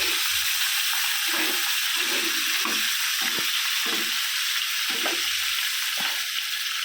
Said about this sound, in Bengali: মাছের ঝালের এই যে ডিমটাও ভেজে তুলে নিচ্ছি